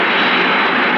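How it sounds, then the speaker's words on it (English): A descending airplane engine roars loud and close as a radio play sound effect, a dense and steady drone that fills the whole moment. "The plane always come down this fast."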